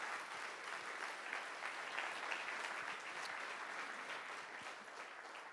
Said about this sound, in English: Let's clap for Patrick one more.